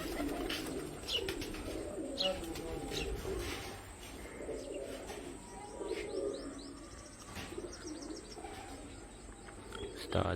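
Champion flying pigeons of a Punjab competition keep up soft, steady cooing and scattered chirps from a rooftop loft, with someone talking over them throughout.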